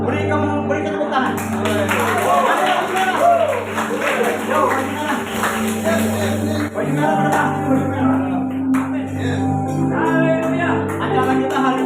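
An audience claps steadily throughout a church service at Gereja Kanaan, the applause blending with loud music and voices.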